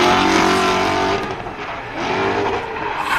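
A drift car in a drifting championship, its engine roaring continuously at high revs while the tires squeal and scrub through a hairpin, loud and close throughout.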